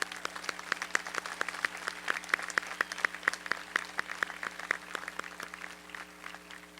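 Audience applause at a university honors convocation during commencement, a steady wash of many hands clapping throughout, moderately loud and fairly close, with no speech over it.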